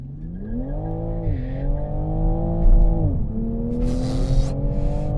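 A Toyota Supra pulls away from a standstill, its engine note rising through the revs, dipping at gear changes and climbing again, loud and close with faint tire noise near the end.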